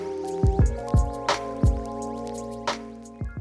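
Toasted pink peppercorns drained from olive oil, a series of close, distinct wet drips and plops with ringing tones in between, spaced unevenly over a few seconds.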